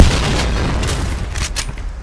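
A loud, booming explosion in the Thai-server game Point Blank hits at once and trails off into a rumbling, crackling tail.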